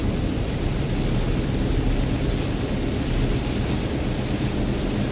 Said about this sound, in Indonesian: Dan hujan pun semakin deras.